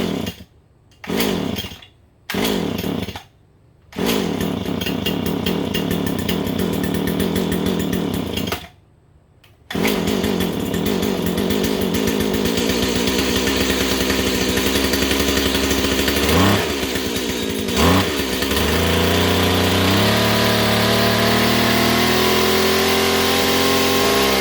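A Stihl FS85 gas line trimmer with a freshly replaced fuel primer bulb sputters through several short false starts, then catches and runs loud and close, its two-stroke engine revving up and holding a high, buzzing whine.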